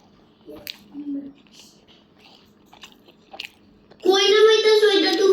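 Bawtta greens are chewed in a few soft, close bites and crunchy mouth sounds spread over several seconds, followed by a burst of loud, high-pitched voices at the end.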